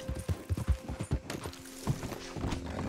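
Horse hooves clip-clop in Red Dead Redemption 2, a quick, fairly loud run of uneven hoofbeats that slows and thins out over a few seconds, with little else around them.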